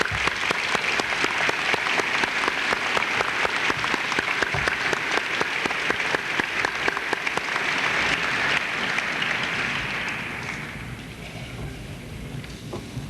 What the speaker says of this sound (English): I think we should give them all a huge round of applause here